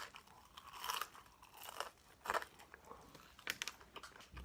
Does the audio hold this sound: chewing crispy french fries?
yes